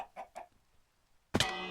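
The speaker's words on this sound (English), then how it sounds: "I just murdered two chickens because they were messing with a bell down here" Chickens in the ArkSMP video game give a few short, quiet clucks. After a brief pause a louder, sharper sound bursts in close at the end.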